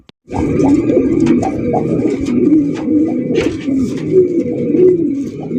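Racer pigeons coo steadily and close by, a continuous rolling, throaty murmur with several overlapping birds and occasional wing flutters.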